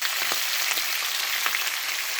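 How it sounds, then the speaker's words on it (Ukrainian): Close, steady sizzle of lard or pork fat frying in a pan during a home pig butchering, a continuous crackling hiss with small pops and no talking. "Сковородка наша шкварчить."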